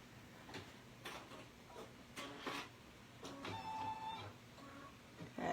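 An embroidery machine stitching in the hoop on an in-the-hoop compact mirror project, quiet mechanical ticks and short whirring bursts at an uneven pace, close and soft.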